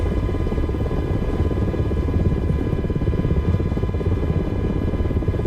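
MH60 helicopter engine and rotor in the Blackbird Simulations flight simulator, a loud, constant droning hum with a rapid rotor beat, heard alone at steady volume.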